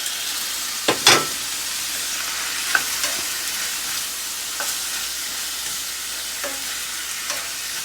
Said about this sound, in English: I am gonna add the mushroom in here